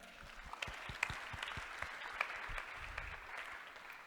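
A seminar audience at a church tithing talk gives scattered, faint applause, individual claps popping out irregularly over a soft, steady patter from a distant crowd.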